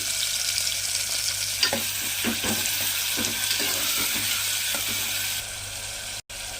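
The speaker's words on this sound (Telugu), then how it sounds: "ఆయిల్ వేడెక్కిన తర్వాత కట్ చేసి పెట్టుకున్న ఉల్లిపాయ ముక్కలు పచ్చిమిర్చి ముక్కలు అయితే యాడ్ చేసుకున్నామండి" Chopped onions and green chillies frying in hot oil, a loud close sizzle with a run of scraping, clattering stirs in the middle, then steady hissing until a brief cut near the end.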